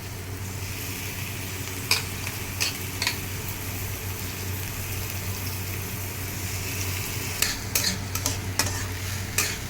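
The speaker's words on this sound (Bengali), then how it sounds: "আমি চালটাকে এবার সুন্দর করে ভেজে নিচ্ছি।" Soaked and dried rice frying in a pan, a continuous low sizzle with a steady hum beneath and intermittent sharp scrapes of a spatula stirring, clustered near the end, up close and without talk.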